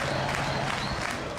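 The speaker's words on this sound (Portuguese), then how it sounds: "E aplausos." Crowd applauding during a public procession for Pelé, a continuous wash of clapping and cheering from many people, steady and fairly distant.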